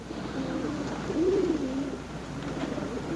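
Pigeons coo nearby in low, soft, rolling calls, one clear warbling coo rising over a steady background hum, with no talking.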